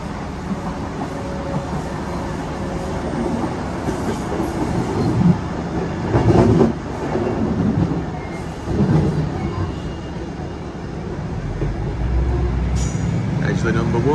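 A passenger train rumbles along the rails on a curving line near Edgeley, with a steady rolling drone, occasional wheel clatter and brief squeals as people talk over it.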